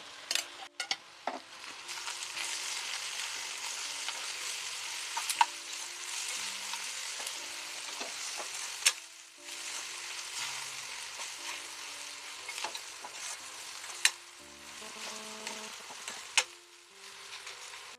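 Ivy gourd pieces frying with ghee and chili powder in a pan, a steady close sizzle running throughout as a spoon stirs and scrapes in repeated bursts, with occasional metallic knocks against the pan.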